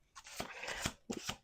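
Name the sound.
tarot cards being shuffled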